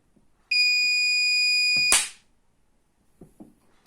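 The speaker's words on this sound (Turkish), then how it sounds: "Dolayısıyla cihaz alarm veriyor." An electric fence energizer sounds its alarm for a high-voltage leak: a steady, loud, shrill electronic tone holds for about a second and a half, then cuts off abruptly, followed by a few faint clicks.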